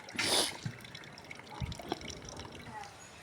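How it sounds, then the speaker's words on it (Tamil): Water being stirred and poured in a garden bucket for manure gives a splashy burst at the start, then softer trickling and dripping, quiet and close. "இப்போ இந்த தண்ணி கலக்கிறேன் பாருங்கள்"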